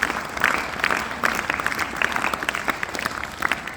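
An audience of children claps for the speaker's son during a school failure-week celebration, making a steady, lively patter of applause that holds throughout without a break.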